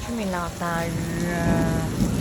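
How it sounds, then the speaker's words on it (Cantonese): Heavy rain in Sabah pours down as a constant hiss beneath voices talking and calling out close by. "大雨"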